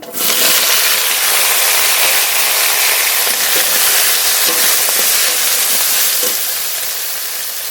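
Eggplant hits hot oil with garlic with a sudden loud hiss, then a steady, close sizzle continues and slowly softens toward the end.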